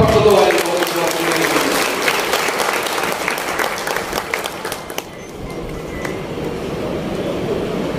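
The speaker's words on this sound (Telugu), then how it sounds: "ఒకసారి చప్పట్లతో ఆయన గౌరవించుకోవాలి" An audience at a Women's Day gathering applauds in honour of a leader, a loud, thick burst of clapping that thins out after a few seconds into scattered claps over crowd murmur.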